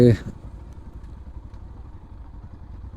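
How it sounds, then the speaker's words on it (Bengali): A motorcycle engine rumbles steadily at low pitch while riding toward Bhatiary Sunset Point in Chittagong, Bangladesh, with a brief louder burst at the very start. "এই সামনের বাইকে আছে মিজান"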